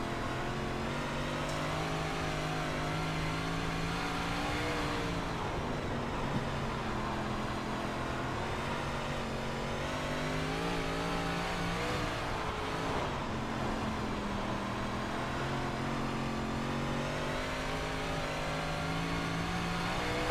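Dirt 358 Modified race car engines at Lernerville in the iRacing sim, a steady loud drone of engine roar that rises and falls in pitch as the car works through the laps, with no talk.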